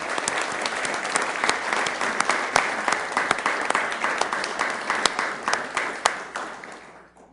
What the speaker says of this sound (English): Let's give a round of applause to these folks.